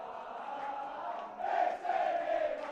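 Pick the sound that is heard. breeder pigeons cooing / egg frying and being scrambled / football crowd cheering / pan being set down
football crowd cheering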